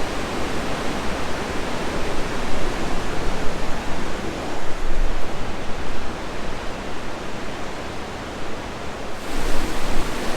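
The St. Louis River rushes loudly past the Swinging Bridge at Jay Cooke State Park in Minnesota, a steady broadband roar of fast water with no voices, swelling slightly near the end.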